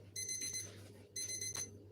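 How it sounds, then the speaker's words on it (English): A kitchen timer beeps in two bursts of rapid electronic tones, loud and close, with a short gap between them, while focaccia bread bakes. "The timer is beeping, it's telling me my bread is ready."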